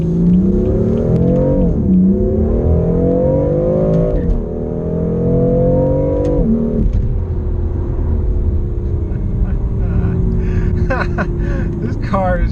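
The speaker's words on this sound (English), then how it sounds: "The turbochargers, oh, they just spool up and you go." A BMW M4 pulls hard with its turbochargers spooling up, the engine note rising through several gears with brief dips between shifts, loud and close from inside the cabin.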